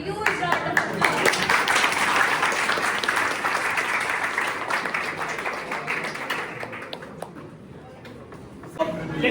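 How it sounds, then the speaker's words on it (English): Applause from a workshop audience welcoming a speaker, a dense wash of clapping that holds steady for several seconds before thinning out, with a few crowd voices mixed in. "let's welcome Mr. Aman Rodola with a huge round of applause."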